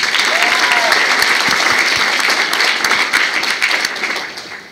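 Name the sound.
audience applause at FFA event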